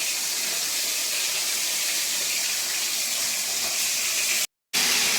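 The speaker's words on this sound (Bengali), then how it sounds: "সব জায়গায় আমি একটা একটা করে ভাজছি" A steady, loud sizzling hiss of pomfret fish frying in hot oil continues without a break, apart from a brief cut near the end.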